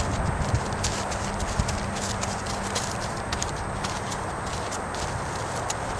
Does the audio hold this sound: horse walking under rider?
yes